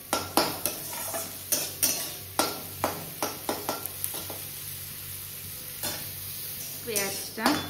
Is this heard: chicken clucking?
no